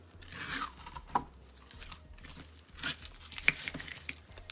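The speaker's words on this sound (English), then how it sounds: "So I'm just going to get all the tape removed." Masking tape peeled and pulled off a sheet of engraved acrylic, close crinkling and tearing bursts in irregular spurts with a few sharp snaps, no talking.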